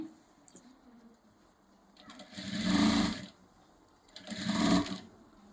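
A sewing machine stitching the body piece and a puff sleeve together, two separate short bursts of whirring, each rising and falling, nearby against a quiet room.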